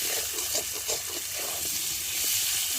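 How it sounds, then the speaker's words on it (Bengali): Potatoes frying with green chillies in hot oil, a dense close sizzle with soft rhythmic stirring strokes in the pan over the first half, no one speaking. "দিয়ে দেবে কথা কাঁচা লঙ্কা, দিয়ে আলুটাকে ভালো করে একটু ভেজে নেবে"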